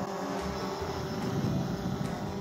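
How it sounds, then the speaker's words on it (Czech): A DJI Phantom 4 drone hovers and circles nearby while tracking a walking person, a steady buzzing propeller whine holding evenly over outdoor wind noise. "ten dron mě oblítne a začíná přede mnou couvat. Můžu mu zamávat, dron zlítne výš"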